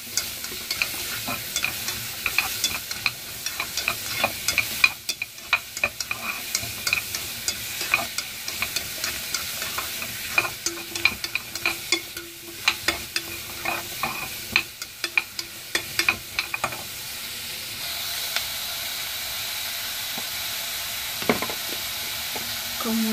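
Onions frying in a pan for broccoli cream soup, stirred repeatedly with a utensil; a continuous soft sizzle under frequent clattering scrapes and taps, close and with no talk.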